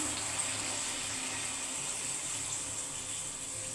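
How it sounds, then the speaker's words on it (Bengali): Water pours steadily into a pot of prawn curry with parwal and potato, a soft continuous splashing stream heard close and alone. "এর পরিমাণ দেখে আমি জল দিয়ে দিচ্ছি"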